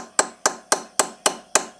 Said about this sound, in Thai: นี่นะครับตอกไปทางนี้จนกว่ามันจะขยับแล้วก็ตอกตัวบนด้วยนะครับ